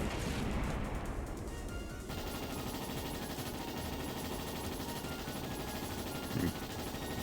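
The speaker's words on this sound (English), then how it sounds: "Fire the missiles." Missiles fire in the video game Trails in the Sky SC as a continuous loud barrage of rapid bursts and blasts, dense and unbroken throughout, with a brief sharper impact near the end.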